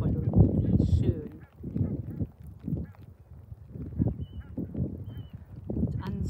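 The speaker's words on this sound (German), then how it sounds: "Schaut euch das mal an, eine gesamte Gänsekolonie." A large goose colony on rainy salt marshes honks continuously at a distance, a dense wash of overlapping calls with faint talk mixed in.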